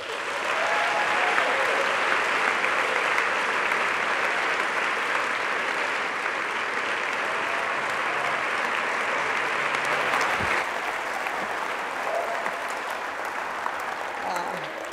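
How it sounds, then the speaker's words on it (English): An audience keeps up long, sustained applause as a speaker walks up the stairs to the stage, an even roar of many hands holding steady throughout. "Thank you all for clapping long enough for me to walk up the stairs and get here."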